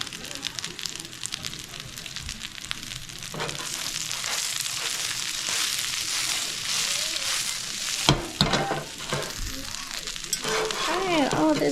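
Torn spinach leaves frying and wilting in a pan, a continuous close sizzle with stirring scrapes and a sharp clatter partway through, while someone talks faintly over it.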